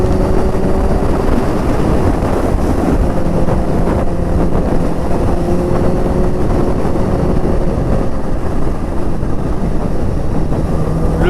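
Kawasaki Ninja H2R, a supercharged bike of over 320 horsepower, roaring steadily and loud throughout while ridden, its engine drone tangled with heavy wind buffeting.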